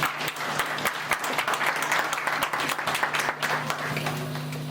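Applause fills a church wedding ceremony, a steady, dense crowd clapping that stays loud and continuous throughout, with no talking over it.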